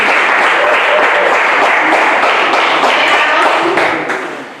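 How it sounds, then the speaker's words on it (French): Church conference audience applauding loudly and continuously, a dense close wash of clapping with some voices mixed in, fading out near the end. "Acclame très fort pour l'Éternel des armées."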